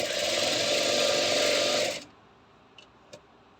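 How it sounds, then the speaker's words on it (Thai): A sewing machine stitches dyed children's sportswear fabric in a loud, steady run for about two seconds, then stops, leaving a couple of faint clicks. "เดี๋ยวเรามาลองเย็บกันนะครับ"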